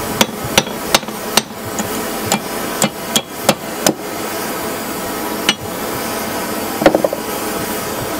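A hammer taps metal held in a vise jig at a blacksmith's bench, striking about a dozen sharp, close metallic blows in irregular clusters with short pauses between them.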